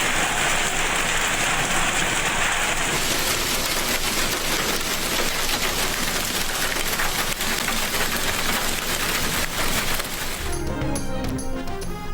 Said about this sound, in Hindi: लाहौर समेत पंजाब के मुख्तलिफ इलाकों में बारिश।